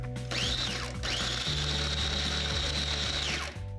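Food processor whirring on and off as it chops dried bread and garlic with liquid added, a steady motor whine with a rising and falling pitch in short pulses, close and unaccompanied by talk.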